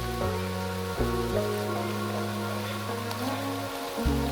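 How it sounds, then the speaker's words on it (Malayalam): Heavy rain pours through dense forest on a trek in Trivandrum, a steady wash of droplets on leaves heard under sustained low tones, with no voices. "ഗൈസ്, അപ്പോൾ നല്ല മഴയാണ്."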